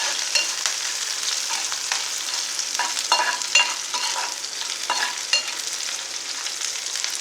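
Chopped beetroot sizzles and crackles as it fries in a pan, with a steady hiss throughout and occasional stirring clatters and scrapes, close and with no voices.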